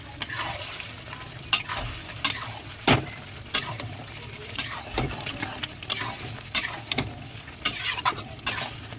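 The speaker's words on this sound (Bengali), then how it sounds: "গরম মশলাটা দিয়ে একটু নাড়িয়ে নিয়েছি" A spoon stirs garam masala into chicken frying in a pan, with repeated scraping and clacking strokes at irregular intervals over a constant close sizzle.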